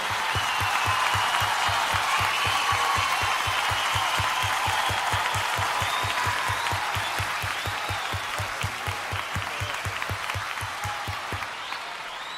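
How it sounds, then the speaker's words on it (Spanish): Sustained applause from a crowd, dense and steady throughout with a rhythmic pulse of low beats underneath, fading slightly toward the end. "Aplauso para ella, muchas gracias"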